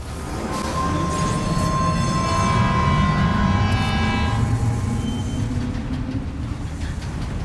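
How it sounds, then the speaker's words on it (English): A monorail in Death Stranding 2 hauling extracted materials runs with a loud, continuous rumbling roll and a sustained high whine or squeal that fades midway, close and steady with no talk. "load the extracted materials onto the monorail for transport"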